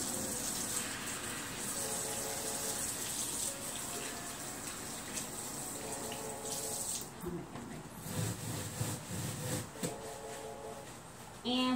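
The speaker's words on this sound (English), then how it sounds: "the collector must wash hands" A tap runs steadily while hands are washed before a collection, a continuous close gush of water with shifting splashes and a brief louder burst near the end.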